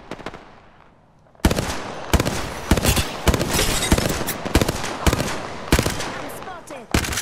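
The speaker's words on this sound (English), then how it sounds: "The enemies are shooting at me." Enemy gunfire in Apex Legends arrives as rapid bursts of loud automatic shots after a quiet opening second, with sharp repeated cracks continuing through the rest of the clip.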